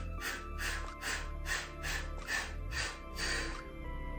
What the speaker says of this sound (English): exhaling for nine